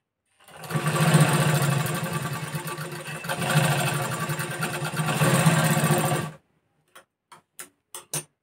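A sewing machine stitches a katori blouse seam in a fast, continuous mechanical whir for several seconds, then stops, followed by a few sharp isolated clicks.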